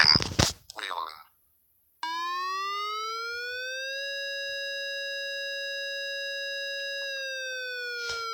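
A Whelen tornado siren sounds a three-second alert with rotation: a clean, steady multi-tone wail rises in pitch, holds loud and even, then dips slightly, preceded by a brief burst of voice and a moment of silence.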